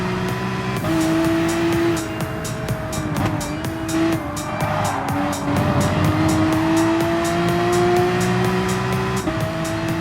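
A racing car engine in the GT Sport video game howls steadily down the front straight in a slipstream, loud and continuous with rising, stepping revs and repeated gear-change ticks throughout.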